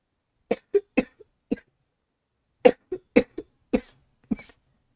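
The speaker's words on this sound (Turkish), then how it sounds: "bir anda öksürük tuttu" A person coughing in a sudden fit while playing Minecraft: about nine sharp, dry coughs close to the microphone, in two clusters separated by a brief pause, with silence around them.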